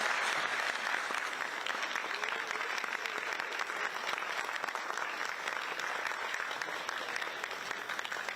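Sustained audience applause at a Democratic Party national convention plaque presentation in a large hall, steady dense clapping throughout with no talk over it.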